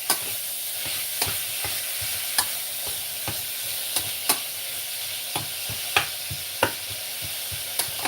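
Ground pork stir-fries in a pan with a continuous bright sizzle, punctuated by regular spatula scrapes and taps roughly every half second to second. No voices.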